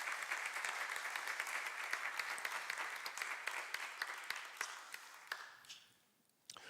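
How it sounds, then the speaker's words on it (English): An audience breaks into applause at a community talk, a lively spread of individual claps that holds steady and then thins out and fades near the end. "Yes, I'll take an applause on that one"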